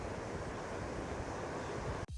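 Ocean surf and wind at Burleigh Heads, a steady broadband wash of breaking waves with wind buffeting, loud and continuous until a brief cut at the very end.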